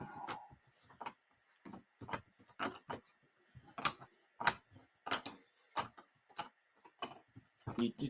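Board game tiles from The Night Cage being flipped over one after another on a table, giving a string of sharp, close clicks and taps in an irregular rhythm with short pauses between them.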